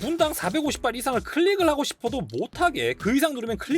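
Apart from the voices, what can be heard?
No everyday noises stand out.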